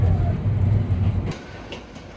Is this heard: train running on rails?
yes